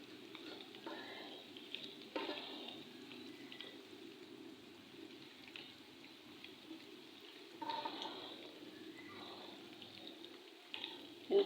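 Koftas sizzle in hot oil in a home kitchen, a soft continuous frying hiss with occasional louder bubbling bursts and light utensil clinks, fairly quiet.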